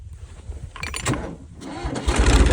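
A tractor engine cranking and catching, sputtering unevenly before swelling into a louder, close rumble at the end.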